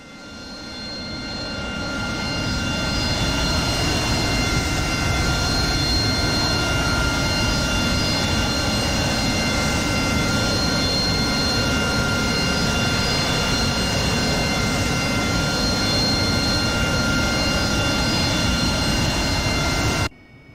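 A fighter jet in the DCS World flight game idles on the ground. Its engine gives a steady, loud roar with a high whine that holds unchanged for about twenty seconds, with no voices.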